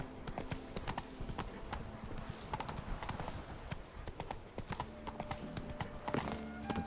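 Roach, the horse in The Witcher 3: Wild Hunt, gallops along in a brisk, steady rhythm of hoofbeats, close and clear over ambient game music.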